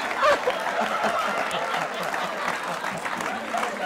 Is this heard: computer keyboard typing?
no